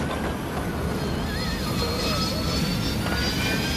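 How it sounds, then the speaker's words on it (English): Loud, continuous roar of a crashing airliner in a Final Destination movie scene, a dense engine-like rumble holding steady throughout, with faint tonal whines drifting above it. "Like, guys, the plane's crashing."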